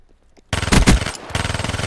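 Video game machine gun fire, a rapid rattling burst of automatic shots that starts suddenly after a quiet moment and continues in a fast steady stream, loud and close.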